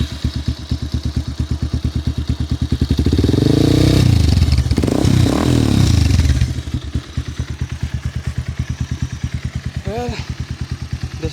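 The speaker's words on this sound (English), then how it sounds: "this is my Pulsar 220 and this is an inbuilt exhaust Yoshimura exhaust system specially made. Let's see how loud does this go." Bajaj Pulsar 220 motorcycle fitted with a custom Yoshimura exhaust, close by: a steady, rapid idle thump swells into a loud, sustained rev for a couple of seconds, then drops back to the loping idle.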